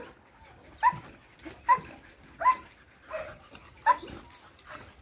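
A Malinois puppy gives a run of short yelping barks mixed with whimpers, about five sharp bursts at an uneven pace, close and fairly loud with no talk.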